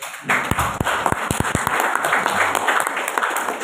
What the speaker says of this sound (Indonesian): Coba ada tepuk tangan sebentar.